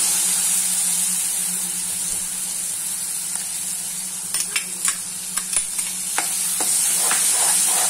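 Spices with a tomato, green chili and ginger paste fry in a pan for sabudana khichdi, giving a steady loud sizzle and hiss, with scattered clicks of stirring toward the end.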